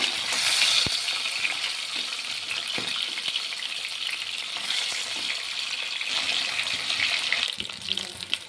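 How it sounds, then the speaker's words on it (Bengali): Rui fish pieces being turned while frying in hot oil produce a continuous close hiss of sizzling, with occasional soft knocks and scrapes from flipping throughout. "মাছগুলোকে আমি উল্টে পাল্টে লাল লাল করে ভেজে নিব"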